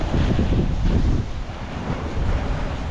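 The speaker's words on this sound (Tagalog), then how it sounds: "grabe lakas dito yan o puti-puti yung alon yan" Strong wind and rough, white-capped waves buffet an island shore, a heavy low roar of surf mixed with gusty microphone rumble, loud and continuous with slight dips in force.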